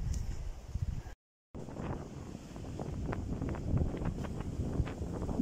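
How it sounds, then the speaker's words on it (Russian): Strong, cold wind on the Baltic Sea coast at Palanga, Lithuania, buffeting the microphone in a steady, rumbling roar with gusty rustling bursts, broken by a brief dropout, and no speech. "Да, около моря очень холодно. Сильный-сильный ветер."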